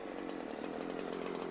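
Chainsaw running steadily at high revs, a loud continuous buzzing drone close by with a slight rapid flutter, no voices over it.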